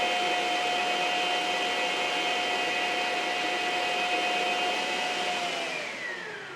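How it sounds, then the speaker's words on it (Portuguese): An electric mixer whips egg whites to stiff peaks for a lemon pie, a steady close motor whine holding level before slowing and dropping in pitch as it winds down. "Então é hora de ligar as claras para bater em neve."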